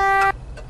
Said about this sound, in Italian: il clacson si sente